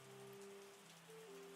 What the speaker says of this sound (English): Up, and there's some rain.